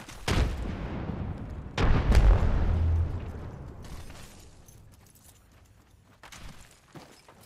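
Frag grenades go off in Apex Legends: two heavy booms, the second louder and longer, each rolling off into a fading rumble, followed by quieter scattered game noises.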